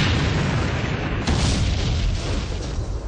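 Bombs from Canadian close air support explode on target, heard as a continuous heavy rumble of blasts, loud and broad, with a slightly sharper burst partway through.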